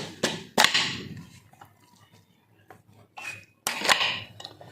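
Raw mangoes being cut into pieces for Marathi-style pickle, a few sharp knife chops and clinks against a pan or plate in separate bursts, with quiet scraping between them and no talk.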